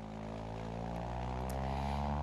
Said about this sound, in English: So here, the throttle's coming up. You can see the aircraft is starting its ground acceleration.